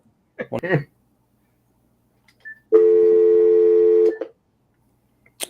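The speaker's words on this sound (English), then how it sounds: "Hold on, we need a dial tone. Okay, we're calling." A brief voice, then a steady telephone dial tone holds for over a second before cutting off, with a faint click after.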